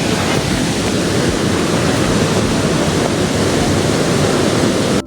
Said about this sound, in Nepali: दिस इज यही रहेछ डेभिस फल